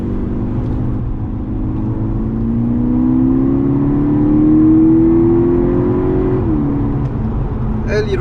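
Volkswagen Golf GTI Edition 35 Mk6, a 235-horsepower hatchback, rumbles with a steady engine and exhaust note that climbs in pitch as revs build, then eases back, heard close and fairly loud with no talk over it.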